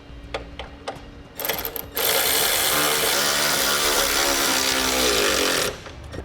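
A power tool drives and tightens a vertical bolt through a DeeZee NXc running board bracket and nut plate on a 2014 Jeep. A few short clicks come first, then a loud, steady whirring run that cuts off near the end.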